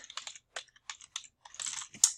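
Search keywords are typed on a computer keyboard: quick, close, crisp clusters of keystrokes in irregular bursts, ending in a sharper final tap, with no talking.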